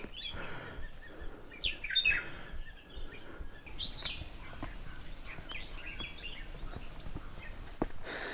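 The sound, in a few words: birds singing on a quiet mountain trek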